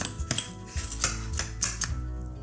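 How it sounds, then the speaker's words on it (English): A metal spoon crushing graham crackers in the bottom of a bowl or coffee mug, a string of sharp clinks and crunchy scrapes in an uneven rhythm, close and clear with no talking. "I just take my spoon and I kind of crush it up in the bottom"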